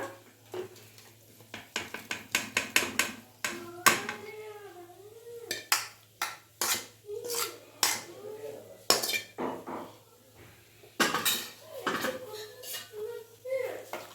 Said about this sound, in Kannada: ಈಗ ನಾವು ಹುರಿದು ರುಬ್ಕೊಂಡಿರೋಂಥ ಬೆಂಡೆಕಾಯಿಗಳನ್ನ ಹಾಕೊಂಬಿಡೋಣ